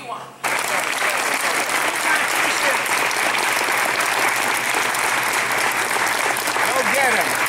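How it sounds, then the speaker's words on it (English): A political campaign audience in Cooperstown, New York, claps in a loud, dense, sustained round of applause that begins abruptly and holds steady to the end. "I'm going to give you a round of applause if you want."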